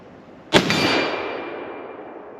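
A Mauser 98K rifle round striking a steel plate, one sharp, loud metallic clang followed by a bright ringing tail that fades over about two seconds.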